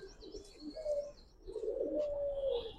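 Pigeons coo softly in a few low, rolling calls close by, with faint chirps in the background and quiet surroundings.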